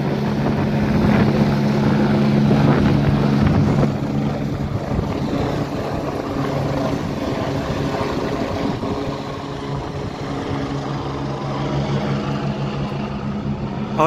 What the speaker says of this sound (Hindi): और आप लोग लाइव देख रहे हैं हेलीकॉप्टर यहाँ से निकल चुका है।